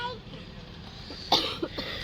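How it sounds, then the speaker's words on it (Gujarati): A child coughs in short bursts against a quiet domestic background, with a sharp, loud cough near the middle followed by a smaller one, as a family gathers to eat bhajiya. "જો ઉધરસ ચાલુ છે"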